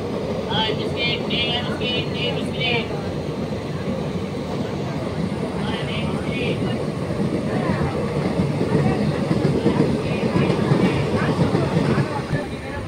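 A local passenger train running between Arakkonam and Perambur rumbles along with a steady low roar that swells toward the end, while voices talk over the noise inside the carriage.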